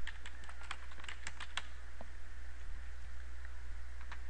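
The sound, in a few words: typing a section name on a computer keyboard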